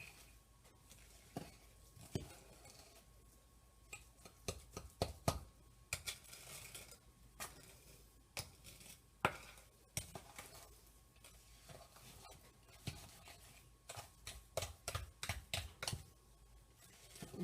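Oatmeal cinnamon cookie dough being mixed by hand in a bowl, with scattered knocks and scrapes of a utensil against the bowl coming in irregular bursts, fairly close but quiet, with no talking.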